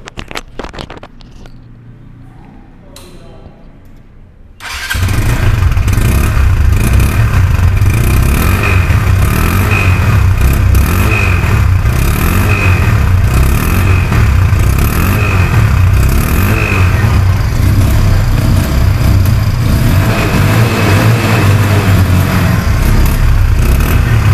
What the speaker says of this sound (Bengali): এখন স্টার্ট করে শোনাবো